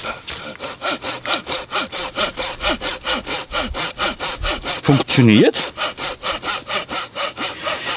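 Outdoor Edge Flip n' Saw cutting through a dry, seasoned hazel stick, with steady rhythmic back-and-forth rasping strokes close up, a brief spoken word partway through.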